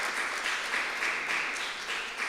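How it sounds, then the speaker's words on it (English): Audience at a community centre conversation in Les Coteaux, Tobago, breaking into sustained, dense applause that stays even and fairly loud throughout. "Give them a lusty round of applause."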